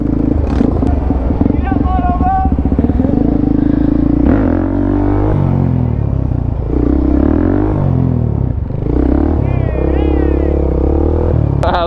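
Motorcycles during a street ride out through Times Square, engines rumbling and revving nearby under excited shouting and chatter from riders, with passing growls and clattering traffic noise throughout.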